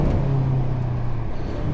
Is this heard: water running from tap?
no